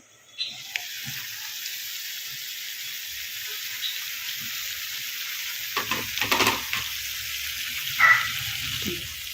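A dish being stirred in a cooking pan gives off a faint, steady sizzle, with a handful of scraping and clinking stirs near the end, heard at close range with no talking.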